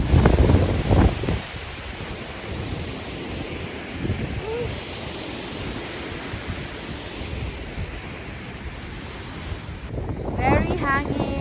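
Strong wind buffets the microphone with loud, continuous low rumble at a Grand Canyon trailhead in Arizona, with heavier gusts at the start and end and a brief voice near the close.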